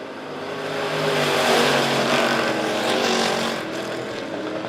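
Race cars roar around a dirt track at Monett Motor Speedway during heat races, a loud, continuous engine drone that swells and then fades as the pack passes through the turns.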